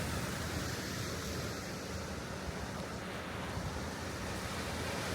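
Steady broadband surf washing over a stony beach at Balls Bay Reserve on Norfolk Island, a continuous rushing wash with wind noise mixed in and no distinct individual breaks.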